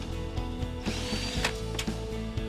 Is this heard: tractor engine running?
no